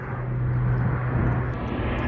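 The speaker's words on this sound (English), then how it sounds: "Here another plane." An airplane passes overhead near an airport, a steady loud engine drone with a low hum persisting throughout, heard outdoors.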